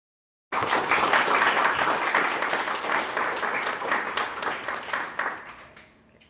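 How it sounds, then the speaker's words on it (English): Audience applause at a professional workshop, starting abruptly after a moment of silence as a full, dense burst of many clapping hands that holds for about five seconds before thinning out and fading. "I hope you heard the applause there"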